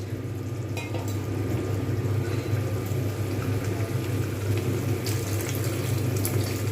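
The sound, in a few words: pouring a little boiled water into paneer curry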